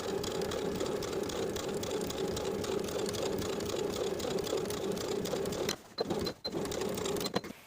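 A sewing machine top stitching a seam allowance on overalls, humming steadily and close for several seconds, then stopping and starting in brief bursts near the end.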